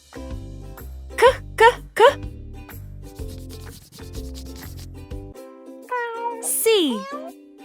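A single drawn-out cat meow sound effect in a children's alphabet learning game rises and falls clearly near the end, following a bouncy, jingly musical tune.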